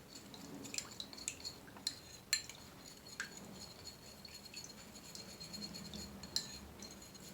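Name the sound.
mixing ginger snack ingredients together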